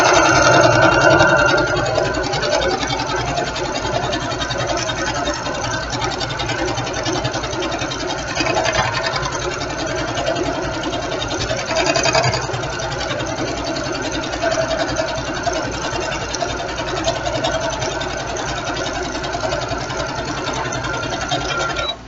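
Sewing machine stitching a jelly roll quilt, a continuous loud fast mechanical whirring and rattling hum running steadily close by from start to finish, with no voices.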